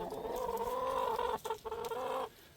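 Backyard chickens clucking near a beehive, a steady run of soft, close cackling calls that break off briefly near the middle and stop just before the end.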